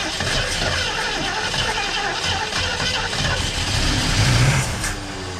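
A 1968 Ford Mustang that sat for 30 years cranks and struggles to start. A continuous engine rumble swells briefly near the end, heard close with no talking.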